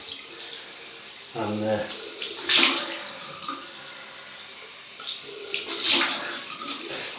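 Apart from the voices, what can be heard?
cold water running from tap for rinsing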